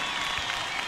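Audience applause at the Viña del Mar festival greets a singer, a dense, steady wash of clapping from a large crowd filling the whole moment at even loudness.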